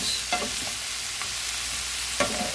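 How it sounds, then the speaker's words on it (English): Braised cabbage being stirred in lard in a pan, a soft steady sizzle with a few brief scrapes of the spoon, close and fairly quiet. "So we'll stir it around"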